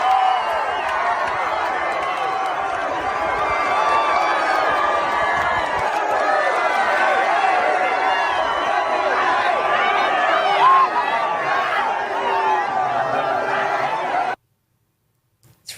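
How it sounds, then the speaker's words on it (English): Large crowd at an outdoor political rally, a dense continuous roar of chatter and cheering that fills most of the stretch, then cuts off abruptly near the end. "Wow, huge crowd."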